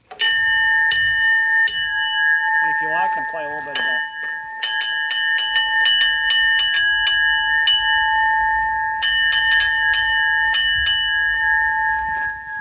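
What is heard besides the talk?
trolley car bell ringing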